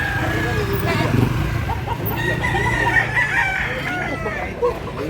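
Roosters crow and cluck amid the bustle of a chicken market in Consolacion, North Cebu, with several calls overlapping people talking nearby and some passing motor traffic.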